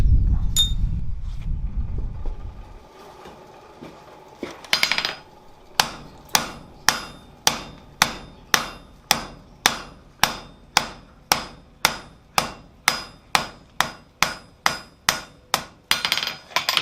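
A blacksmith hammers a square steel bar to draw out a point, landing a long steady series of sharp ringing blows at an even rhythm, loud and close, after a low rumbling opening.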